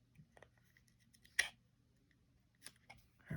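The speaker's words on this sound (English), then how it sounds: "we should be able to pop this trim ring off" Trim ring of a Penn No 49 deep sea fishing reel pried off by hand, a few small close metallic clicks and snaps, one sharper pop near the middle, in a quiet room.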